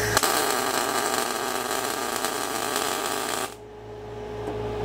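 An Everlast Cyclone 212 welder strikes an arc at a 25% setting, giving a loud, steady, crackling sizzle that runs continuously for a few seconds. It cuts off abruptly near the end, leaving only a faint hum.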